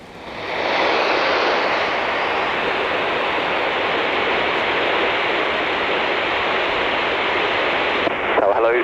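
An easyJet airliner landing at Gibraltar in gusty wind, a loud steady roar of engines and rushing wind that builds within the first second and holds without a break, then eases slightly near the end.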